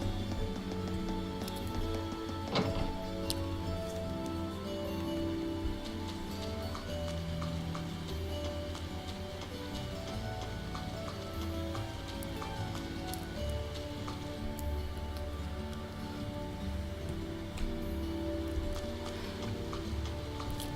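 Steady rain patters throughout a town scene in the video game Trails of Cold Steel, a soft, even hiss mixed under sustained background music with a faint, regular ticking.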